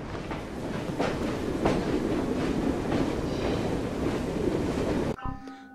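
Train rolling along a railway in the video game Assassin's Creed Syndicate, a steady, dense rumble with faint rhythmic clatter that cuts off abruptly near the end, leaving quieter game sounds.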